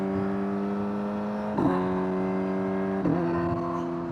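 A tuned 2025 Kawasaki Z900 SE motorcycle engine holds a steady, loud, droning rev, with two sharp throttle blips around the middle and near the end before settling back; no talking.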